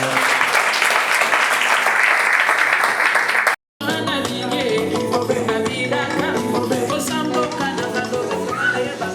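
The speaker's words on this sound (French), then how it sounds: "Si nous pouvons encourager par les applaudissements" Applause from an audience encouraging three women at a gathering, a loud sustained wash of clapping that cuts out briefly, then resumes mixed with music and crowd noise.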